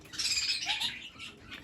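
Pet budgies and kakariki chirp and squawk in a short burst, a busy cluster of bright calls that fades to fainter chatter, with no voices.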